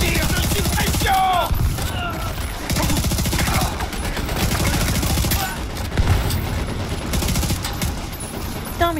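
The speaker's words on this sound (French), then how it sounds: "Tire de suppression." Sustained suppressive automatic gunfire in The Division 2, dense rapid bursts firing almost continuously and loudly, with brief pauses, mixed with game effects and faint voices.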